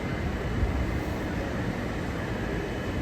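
An ÖBB Nightjet night train pulling into Amsterdam Central station, a steady, loud rumble of rolling wheels and engine noise that fills the whole stretch without breaks, with no voices.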